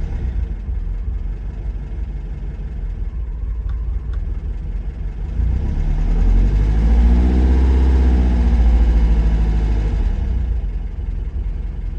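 A cold car engine idles steadily while the throttle is held, the revs swelling and rising midway before easing back down, loud and close with no talking.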